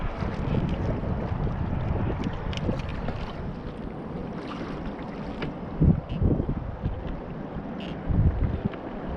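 Steady wind buffeting a fishing boat on the Swan River, a constant broad rush with occasional louder gusts and thumps, no voices.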